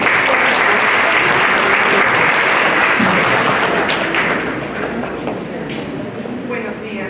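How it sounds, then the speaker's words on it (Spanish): Loud, dense applause from a conference audience welcoming a speaker on social thanatology and forced disappearances, a roaring mass of clapping that fades gradually in its last seconds, with a faint murmur of voices beneath. "Denos un fuerte aplauso, por favor."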